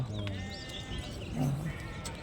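Sheep bleat at a sheep market, a couple of short wavering calls close by amid crowd chatter and background noise.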